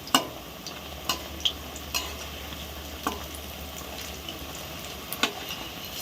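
Pakoras made from mixed leafy greens fry gently in oil, giving a soft, steady low sizzle with scattered small pops and clicks from turning them one by one, fairly faint, with no voices.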